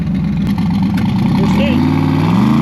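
A car's engine growls loudly during a burnout and its pitch climbs steadily toward the end, with a voice talking over it.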